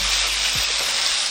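Rice frying and caramelizing against the hot walls of a wok for nasi goreng, a steady dense sizzle that holds evenly throughout without any talk.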